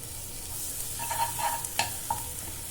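Eggs and garlic frying in a pan for a Telangana-style egg garlic karam, a soft steady sizzle with several sharp spatula scrapes and taps close by, no talk.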